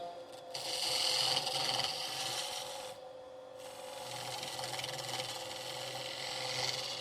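Woodturning gouge sweeping through a cove on a spinning lathe, giving a continuous soft rasping scrape with a steady underlying motor hum, a short quieter pause partway, then cutting resumes; fairly faint and without speech.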